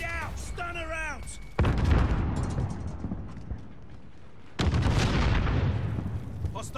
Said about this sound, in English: Grenade out! Stunner out!